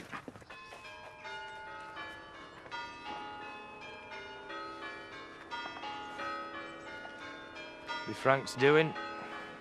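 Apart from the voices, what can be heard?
church bells ringing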